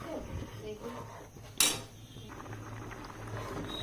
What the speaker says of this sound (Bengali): নাড়া শুরু করলাম।